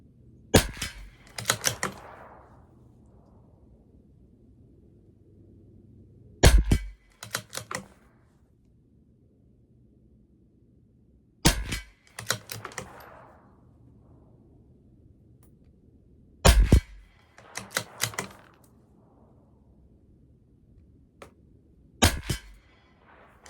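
A CZ 457 LRP rifle with an MTR barrel firing a five-shot group at a 50-yard target: sharp, close reports in short clusters roughly five seconds apart, with near silence between them.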